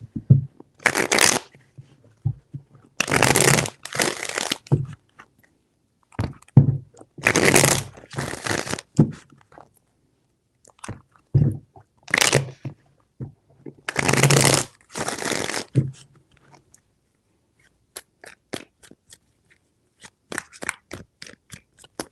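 Tarot cards being shuffled in several quick riffling bursts separated by short pauses, close and crisp, with no talking.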